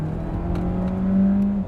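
A DS hybrid car's rear 110-horsepower electric motor whirs and rises in pitch as it accelerates, a smooth humming drone with little engine roar, close by.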